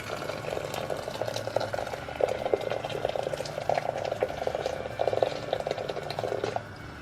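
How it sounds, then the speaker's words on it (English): Water heats toward a boil in a kitchen kettle, giving a steady, soft bubbling rumble with small irregular pops that swell and fade for several seconds, with no voices. "I have some water in my kettle. As soon as that comes to a boil"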